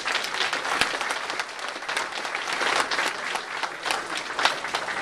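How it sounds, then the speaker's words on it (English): Warm applause from an audience at a Millers Run refund event, a thick, continuous wash of many hands clapping at close range with a faint crowd murmur underneath. "So they deserve a round of applause, and I would like to one right now."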